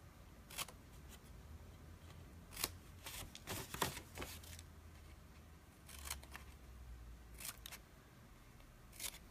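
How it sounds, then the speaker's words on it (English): Scissors cut paper tabs for a box lid in a quiet room, a handful of sharp, close snips spaced irregularly across several seconds. "Cut the tabs the same."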